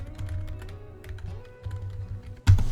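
Typing on a computer keyboard at close range, a quick irregular run of soft key clacks continuing throughout, with a louder burst near the end.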